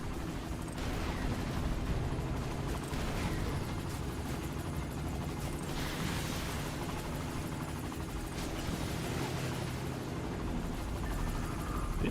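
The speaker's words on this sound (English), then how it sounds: "Final wave, you can tell by the helicopter sound." A helicopter drones in a video game during the final wave, its low rumbling rotor sound steady and moderately loud, mixed with bursts of gunfire and explosions throughout.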